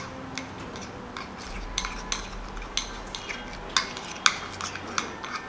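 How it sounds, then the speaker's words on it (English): Spoon stirring a paste of fenugreek seed powder, sandalwood powder and milk in a bowl: faint, scattered clinks and scrapes of metal against the bowl over a quiet background. "So we'll stir it all together."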